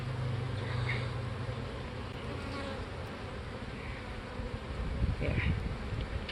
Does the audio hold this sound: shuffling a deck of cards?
no